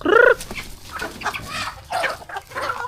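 A single loud hen squawk at the start, followed by softer scattered clucks and rustling from several Japanese bantam chickens nearby.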